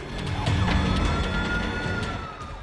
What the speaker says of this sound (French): ils entendaient les sirènes